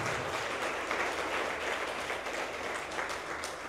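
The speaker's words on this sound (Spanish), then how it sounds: "un fuerte aplauso a la comunidad Santa Ana en este día por su participación" Congregation at a Catholic mass applauds the Santa Ana community, a dense, steady wash of hand clapping filling the whole stretch at moderate loudness with no voices over it.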